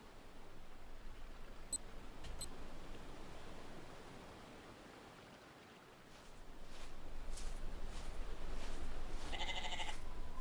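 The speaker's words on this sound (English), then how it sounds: "Oh, that's just the goats." A single faint, distant goat bleat near the end, rising out of a steady hiss of background noise, with a couple of sharp clicks earlier in a quiet room.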